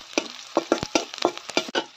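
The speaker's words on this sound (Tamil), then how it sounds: "வெங்காயம் சேர்த்து வதங்கிட்டு இருக்கு" Onions with curry leaves sauté in a pan, a short burst of close spatula scrapes and stirring strokes over a soft sizzle, roughly six or seven quick strokes, no voices.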